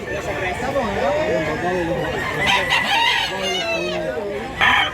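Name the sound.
rooster crowing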